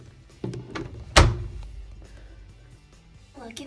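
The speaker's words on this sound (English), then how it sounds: "Shut the door." A door is shut with a single heavy thunk partway through, close and fairly loud, with a short low boom trailing after it and voices nearby before and after.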